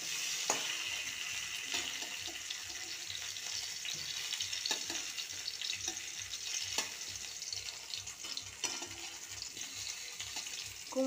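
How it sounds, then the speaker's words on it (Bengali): Pumpkin pieces fry in a pan of oil, making a constant close sizzle broken by occasional scraping clicks and knocks as they are stirred and turned, with no voices. "সব কটা কুমড়ো আগে ভেজে নিই।"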